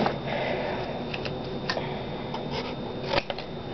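Scissors cutting paper to make a folding paper knife, with a few faint, crisp snips and rustles close up over a steady background hiss.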